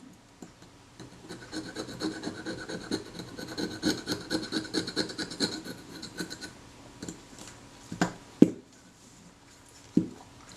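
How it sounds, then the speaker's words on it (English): The back of a scalpel blade scrapes brittle, powdery dirt off a Kodak Retina Reflex camera body: quick close scratchy strokes for several seconds, then a few isolated sharper scrapes. "I'm just using the back of my scalpel blade here to scrape this rubbish loose"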